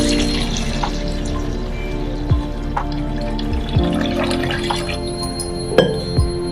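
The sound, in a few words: pouring water onto chapati dough slices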